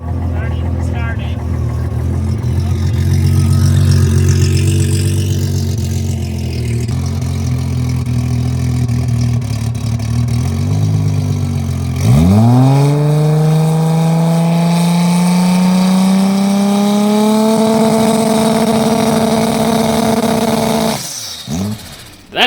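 A turbocharged car engine idles with a steady rumble, then revs sharply and holds high on a two-step launch limiter, a sustained loud drone rising in pitch before cutting off near the end; voices occur alongside.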